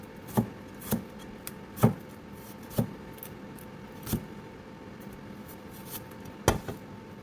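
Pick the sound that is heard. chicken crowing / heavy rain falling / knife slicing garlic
knife slicing garlic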